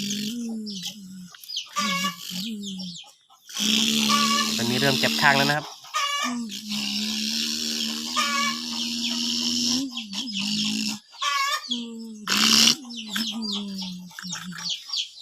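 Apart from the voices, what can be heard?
chickens clucking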